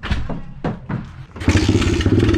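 A pit bike engine runs rough, opening with a few uneven thumping sputters before catching into a louder, ragged running roar close by.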